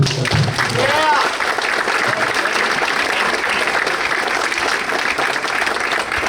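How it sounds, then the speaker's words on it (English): At a boys' lacrosse banquet at the Fireside Inn, the audience gives the parents a steady round of applause that fills the room, with voices mixed in. "So let's give the parents a big round of applause."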